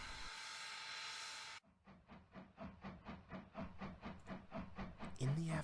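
A loud, steady steam hiss cuts off abruptly, then a locomotive chuffs in a regular rhythm of rapid puffs.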